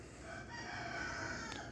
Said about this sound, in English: roosters, as soon as the sun comes up, will crow for about 30 minutes